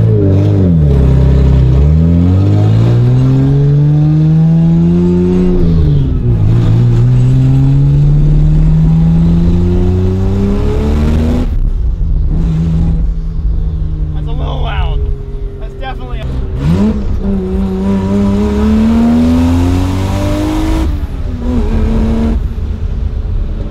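A Lexus with a 1JZ engine revs hard in long rising and falling sweeps, very loud, rattly and rough, with a voice talking in places.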